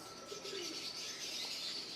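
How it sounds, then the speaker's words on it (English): Soft pigeon coos murmur beneath a dense, hissy room ambience at a bird farm, faint and continuous with light chirps mixed in. "this is where they got more pigeons"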